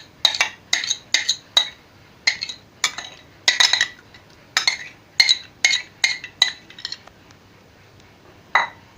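A utensil stirs coconut flesh paste into a mixture in a metal pot, a series of bright clinking scrapes in irregular bursts, close and fairly clear, with quieter gaps between strokes.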